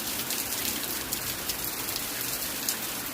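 Heavy rain falls steadily on a surface near a ferry, a dense, even hiss with scattered louder drops and no talk.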